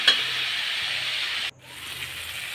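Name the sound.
tomatoes and onions sautéing in a pan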